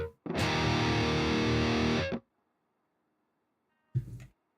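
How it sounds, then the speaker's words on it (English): A heavily distorted electric guitar rings out in one loud sustained chord for about two seconds, cuts off, then a short second distorted stab follows after a pause, in a rock song being recorded. "You will be linked to distortion guitar."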